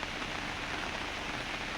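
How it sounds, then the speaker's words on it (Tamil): Steady rain pours down at a forest elephant viewpoint, an even hiss of falling drops with no other sounds over the short stretch. "இப்போ மழை நல்லா பெய்யுது"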